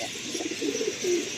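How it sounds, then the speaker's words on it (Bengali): A male pigeon in a loft at sunset giving a few soft, low coos, close but quiet over steady background hiss. "এই তিনটেই মেল পায়রা।"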